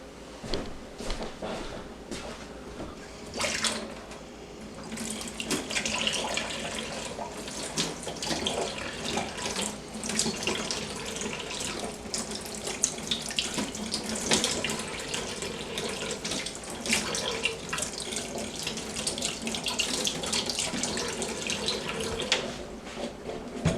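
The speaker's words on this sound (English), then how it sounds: "I'm going to give a real, just quick rinse under running tap water" An object is rinsed under a running household tap, water splashing continuously into a sink with shifting intensity as the item moves through the stream; no speech.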